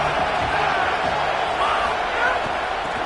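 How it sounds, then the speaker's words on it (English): A football stadium crowd roars and cheers in a continuous, moderately loud wash of many voices, with a few brighter whoops rising out of the din. "This crowd ready to make its presence known."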